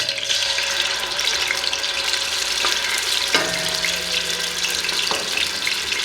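Ginger and garlic paste frying in a pan for a mutton korma gives a steady, close sizzle with bubbling and occasional stirring clicks, loud and continuous, with no voices.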